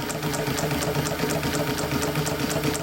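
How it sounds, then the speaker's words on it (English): A 114k103 chain stitch sewing machine driven by a servo motor through a wooden drive wheel runs steadily, its rapid, even stitching rhythm close and continuous throughout with no talking. "this chain stitch machine shows you the chain stitch while you sew it"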